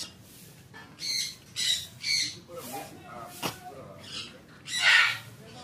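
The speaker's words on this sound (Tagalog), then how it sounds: "Nandito yung mga ibon niya, yung mga birdies." Pet birds in a straw-built aviary on a farm in Pampanga give several loud, harsh squawks in separate bursts, close by, with a few softer chirps and background noise between them.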